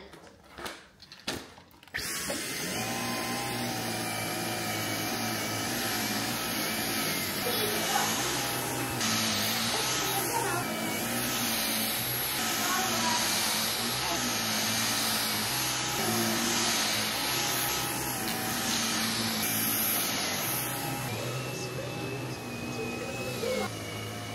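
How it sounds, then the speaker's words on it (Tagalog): After a few brief knocks, a vacuum cleaner starts and runs steadily with a loud, continuous whining drone, and voices are heard faintly beneath it. "The vacuum there."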